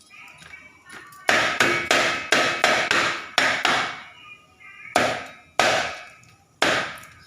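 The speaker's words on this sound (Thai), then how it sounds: "เดี๋ยวจะมาสับเป็นคำนะคะ" A heavy cleaver chops a grilled frog on a wooden board, a quick burst of loud, sharp blows followed by a few slower, spaced strikes.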